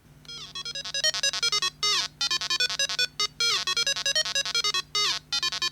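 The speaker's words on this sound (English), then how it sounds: "The patch says it will replace the ringtones in the discrete section with something better." Monophonic phone ringtones from a patched early custom ROM play in quick bursts of bright, beeping melodic notes, separated by short gaps, over a low steady hum.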